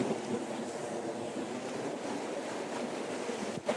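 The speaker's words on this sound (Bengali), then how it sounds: "চারপাশ দিয়ে গাছ আর এরকম ঢেউ ঢেউ আসতেছে" Sea waves roll in at Kuakata beach in Bangladesh, a steady, fairly faint wash of surf mixed with wind buffeting the microphone, with no voices.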